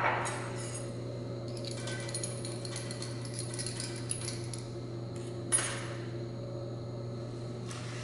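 Glassware clinks and taps as a drop of phenolphthalein is added to sodium hydroxide and swirled in a lab, a few sharp chimes and light rattles over a steady low electrical hum.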